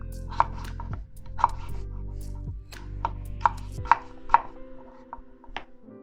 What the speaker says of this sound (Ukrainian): Кубиками нарізаємо картоплю.